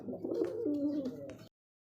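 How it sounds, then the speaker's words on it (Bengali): A white Bombay pigeon gives a soft, close cooing call lasting about a second and a half, then falls silent. "হোয়াইট কালারের মধ্যে বোম্বাই কবুতর দেখতে পাচ্ছেন"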